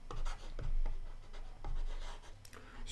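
Marker or chalk writing on a board during a maths lesson, a series of scratchy strokes and rubbing sounds in bursts, close and moderately loud with no talking.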